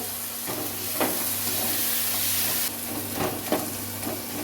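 Mutton mince stirred with a little water in a pan, a steady soft sizzle and steamy hiss with a few scraping spatula strokes, close and moderately quiet with a faint hum beneath.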